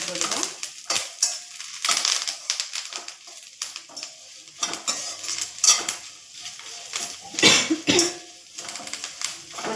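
Curry leaves fry dry in a pan with a crackling sizzle, broken up by repeated scraping and stirring strokes of a utensil against the metal, close and fairly steady throughout.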